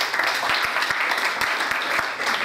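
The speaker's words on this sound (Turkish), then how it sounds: "kendisine alkışlıyoruz." An audience claps at a Turkish literary meet-the-author event, a continuous dense applause lasting the whole moment, fairly loud and even, with no words spoken over it.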